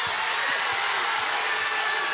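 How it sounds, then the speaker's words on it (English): A college basketball crowd applauds a defensive stop, sustained clapping and cheering at a steady level, with a few low thumps beneath the dense wash of hands. "They applaud the defense of Williams"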